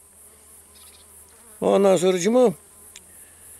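A yellowjacket wasp buzzes close by at a honeybee hive in Bilecik, Bozüyük, Turkey, a loud buzz of about one second rising out of quiet hive hum, with someone speaking Turkish briefly.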